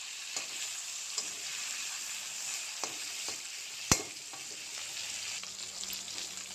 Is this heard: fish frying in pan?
yes